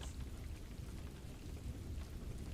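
Steady soft rain pattering against a window, a faint continuous hiss with a low rumbling undertone and no voices.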